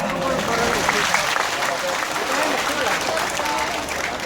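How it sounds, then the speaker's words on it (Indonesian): A crowd at an Islamic religious gathering in Taipei applauds loudly and steadily for several seconds, with some voices mixed into the clapping. "Tepuk tangan buat beliau."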